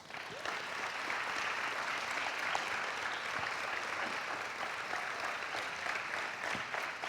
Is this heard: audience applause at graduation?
yes